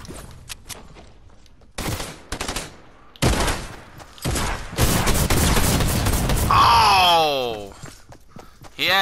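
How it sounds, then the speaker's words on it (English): Bursts of rapid drum-gun fire ring out in a battle royale video game, loud and repeated, with a sweeping whistling effect partway through and game noise between volleys. "He had the drummer gun, Bob."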